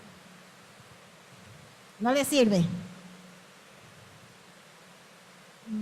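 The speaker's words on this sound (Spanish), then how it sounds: "como está lloviendo mucho" Heavy rain as a steady soft hiss in the background, with a brief spoken phrase rising over it.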